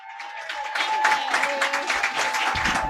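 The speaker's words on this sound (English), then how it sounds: "But please clap it up." Comedy club audience applauds and cheers a comedian coming on stage, a dense burst of clapping from a crowd, loud and continuous throughout.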